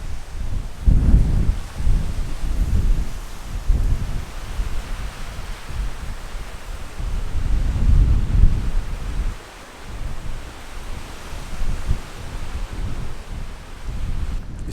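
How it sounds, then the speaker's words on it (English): Steady wind rushing and buffeting past the microphone at an outdoor truck campsite on a hot day, loud broadband gusts swelling and easing with no talking. "And the wind feels great."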